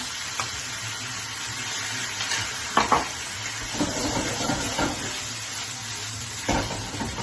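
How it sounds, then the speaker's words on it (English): Tomato sauce hits a hot pan of pasta with capers for Neapolitan pasta, a steady close sizzle with occasional stirring clinks and scrapes, no one speaking. "and then we add the tomato sauce from this morning"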